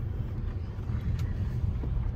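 Car driving along a road to a pumpkin patch field, a steady low rumble of engine and tires from inside the cabin with light wind noise, continuous throughout.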